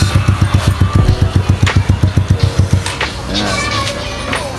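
A motorcycle with newly fitted exhaust pipes idles close by in a loud, regular burbling pulse, then the engine note settles into a smoother, quieter drone with faint background noise.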